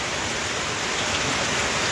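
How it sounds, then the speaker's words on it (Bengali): A heavy downpour lashes a village in a dense, unbroken roar of rain, loud and close with no voices. "মুসলধারে বৃষ্টি"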